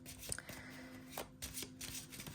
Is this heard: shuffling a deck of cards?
yes